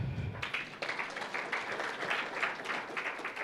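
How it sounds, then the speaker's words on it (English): Audience applause at a registry platform launch ceremony honoring farmers, a steady wash of many hands clapping at moderate distance for a few seconds without speech. "Can we clap for the farmers?"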